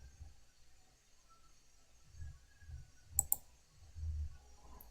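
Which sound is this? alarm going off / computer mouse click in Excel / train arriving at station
computer mouse click in Excel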